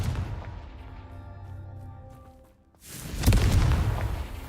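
Confringo, a blasting spell in the video game Hogwarts Legacy, goes off as a single loud explosive burst that booms and trails off, after a quieter stretch of fading magical tones.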